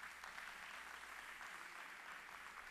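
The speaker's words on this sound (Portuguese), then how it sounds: "Então palmas para os meninos aí," Steady applause from an audience at a Christian professionals' forum gathering, clapping for young musicians after a song, continuous and moderately distant for the whole stretch with no talk over it.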